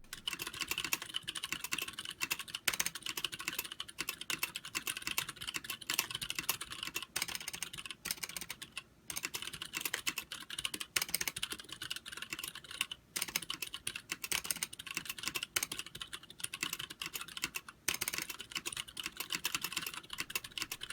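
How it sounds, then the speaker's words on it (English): Continuous fast typing on a GON NerD60 mechanical keyboard, close up, with crisp clicks and clacks in an uneven rhythm and no talking. "Here is a typing sample."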